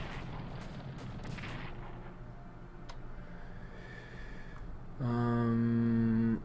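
Artillery in the World War I strategy game Strategic Command fires in a few dull booms that give way to a rumbling tail, followed by a sustained droning tone at the end.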